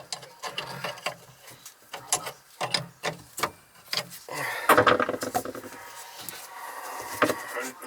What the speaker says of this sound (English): I gotta tighten it